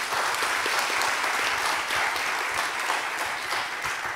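An audience claps warmly to welcome a pastor at a church forum, dense sustained applause filling the room evenly from start to finish, loud and close with no voices above it.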